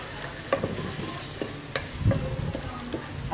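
Chicken fries in a pan with masala for tinda gosht, a continuous sizzle broken by repeated scraping stirs and spoon knocks against the pan, close up and with no talk.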